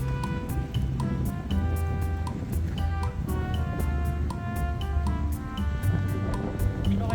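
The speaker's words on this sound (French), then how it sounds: "Là vous avez la navette qui va à l'île de Batz." A shuttle boat heading to the Île de Batz on the windy Brittany coast drones steadily, its engine hum blending with water and wind noise without pause.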